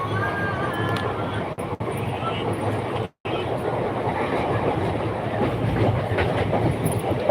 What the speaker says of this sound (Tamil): ட்ரெயினில் போகிறேன்ல அதனால் கேட்கல